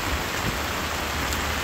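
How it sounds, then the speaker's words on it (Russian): A heavy downpour drums steadily and loudly on an open-air market in Tashkent, a dense, unbroken roar of rain. "Ливень сильный-сильный льет."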